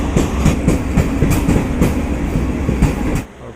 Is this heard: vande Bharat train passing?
yes